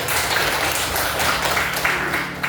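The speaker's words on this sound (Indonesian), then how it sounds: "Kasih aplaus dulu" Applause from a class of students in a school classroom, a steady dense patter of many hands clapping close by for a couple of seconds.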